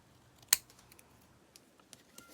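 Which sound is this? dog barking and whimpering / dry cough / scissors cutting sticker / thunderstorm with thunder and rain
scissors cutting sticker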